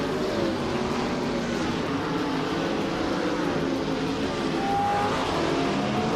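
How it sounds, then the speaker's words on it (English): DTM race cars, including Mercedes, Audi, Chevrolet and Renault machines, roar around the Sonoma circuit in a racing video game, a dense, steady wall of engine noise with no break and no voices. "The DTM cars at Sonoma seem evenly matched, but the track's tight corners favor skill over raw power"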